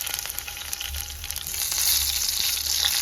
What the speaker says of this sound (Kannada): ಸಾಸಿವೆ ಚಟಪಟ ಅಂತಿರ್ಬೇಕಾದ್ರೆ ಬೆಳ್ಳುಳ್ಳಿ